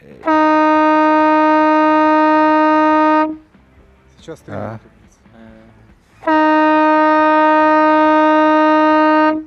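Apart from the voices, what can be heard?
siren horn signal blasts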